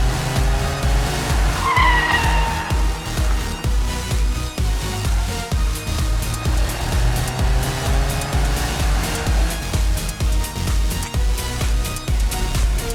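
A 2023 Toyota GR Corolla Circuit Edition prototype accelerates hard without launch control, engine roaring loud and close with rising gear pulls while the tires squeal and skid in sharp bursts.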